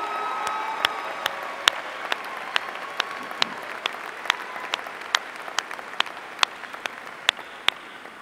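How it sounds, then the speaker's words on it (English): Audience applause at a spring university commencement ceremony in a large hall, a steady wash of many hands clapping at moderate loudness with a few sharper individual claps standing out, no talking. "let's give them a wonderful round of applause."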